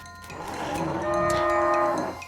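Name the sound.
cow skull monster moo, West of Loathing video game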